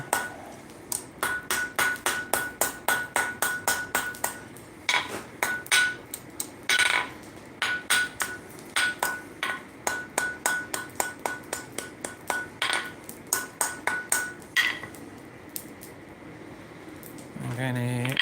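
Hammer striking hot metal on an anvil while forging a small mouse figure, rapid ringing metallic blows in bursts with short pauses, close and loud, a resonant ping sustaining between strikes.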